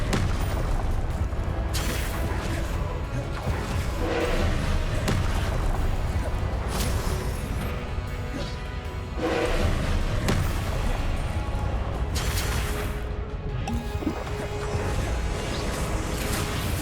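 Spell blasts and explosions from the Hogwarts Legacy video game, repeated booming impacts and whooshes over a constant loud battle din, with shouted voices in the mix.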